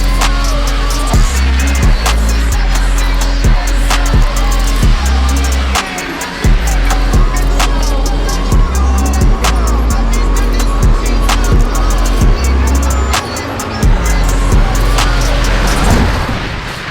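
A Mazda Miata with a rebuilt differential driven on the street, its engine loud and close, rising and falling through repeated gear changes with brief pauses between pulls.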